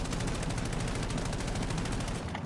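Rapid automatic gunfire in Call of Duty Black Ops 7 while shooting at enemies, a steady loud stream of shots with an even rhythm and no pauses.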